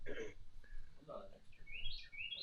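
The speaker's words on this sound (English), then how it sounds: "Listen to that bird. That's a mockingbird." Faint mockingbird song with short chirps and rising whistled phrases in the distance, while people talk quietly nearby.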